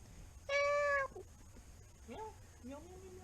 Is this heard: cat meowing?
yes